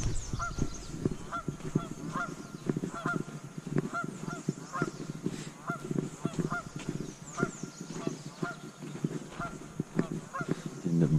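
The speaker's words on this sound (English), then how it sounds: "And the birds are noisy here." Many geese honk repeatedly in a noisy overlapping chorus, steady throughout, with a faint low rumble underneath.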